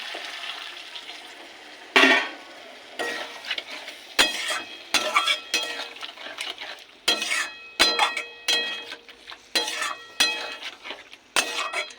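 Dal chilli curry fries in a pan with chilli and tomato sauce, as a metal spoon scrapes and clinks against the pan in repeated stirring strokes over a low sizzle, close and fairly loud.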